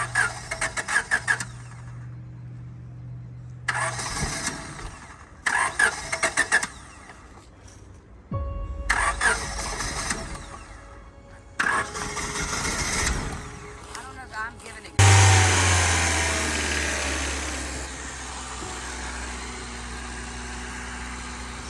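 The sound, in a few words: 1997 Honda Civic hatchback engine starting and revving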